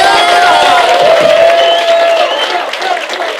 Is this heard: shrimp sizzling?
no